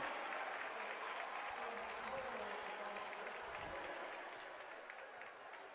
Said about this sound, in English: That's a good reaction from the crowd.